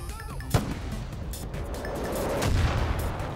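Gunfire in Far Cry 5 sounds as a sharp shot cracks early, followed by rumbling booms and continuous battle noise, with another heavier burst near the end.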